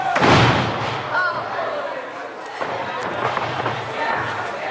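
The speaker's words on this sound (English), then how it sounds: "Both men knocked each other down with that forearm" Two wrestlers trade forearm blows and knock each other down in a wrestling ring at a live event, giving a heavy slam and thud early on, followed by crowd noise and commentary voices.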